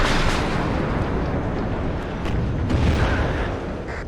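Artillery shells fire and burst in a WARNO multiplayer battle, a continuous dense rumble of booms rolling together at steady high loudness for a few seconds, with no voices.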